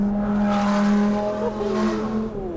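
A Lamborghini sports car engine driving, a loud steady drone with a bright harmonic growl that rises and falls slightly as the revs shift, heard close and alone.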